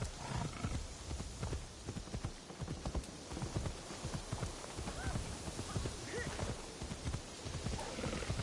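Horse hooves clip-clop steadily in Assassin's Creed Shadows, a continuous rhythmic trot that runs the whole time under game ambience, with a whinny and voices now and then.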